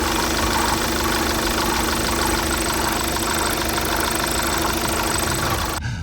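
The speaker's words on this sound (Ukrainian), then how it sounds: "до роботи двигуна претензій немає, але щось якийсь ролик або підшипник підтирає" A Volkswagen Passat B8 engine idles steadily and loudly, with a constant mechanical rubbing whir from a roller or bearing running through it, cutting off abruptly near the end.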